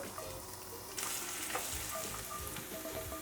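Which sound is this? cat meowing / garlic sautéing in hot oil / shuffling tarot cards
garlic sautéing in hot oil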